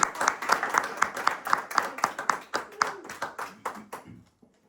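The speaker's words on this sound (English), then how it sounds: "a round of applause" Attendees at a planning commission meeting clap in a small, sparse round of applause, distinct individual claps in a quick rhythm that gradually thins and fades out near the end.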